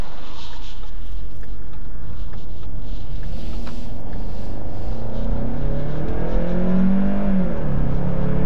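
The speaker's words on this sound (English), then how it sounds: "I'm going to check out the acceleration again one more time with the select shift paddles." A 2015 Ford Mustang EcoBoost pulls hard under acceleration with paddle shifts, the engine tone climbing and rising in pitch through the gears, loud and close from inside the cabin over steady road roar.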